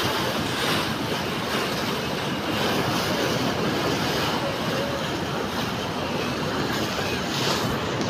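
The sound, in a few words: river water rushing fast at a three-river confluence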